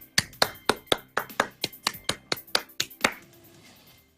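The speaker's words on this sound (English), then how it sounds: "a round of applause" About a dozen sharp, evenly spaced claps, close and distinct like a single pair of hands or a small group, ending in a short ring-out.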